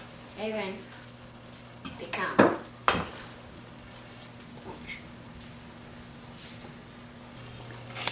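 A spoon clinks and scrapes in a mixing bowl as banana bread batter is stirred, a few sharp knocks standing out over a steady background hum, with people talking.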